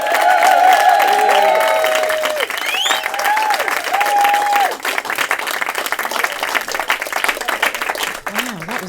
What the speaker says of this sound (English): Wow, that was seriously good cheering.